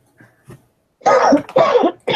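A person coughs and clears their throat close to a microphone, with a couple of faint small sounds followed by three loud, harsh bursts in quick succession.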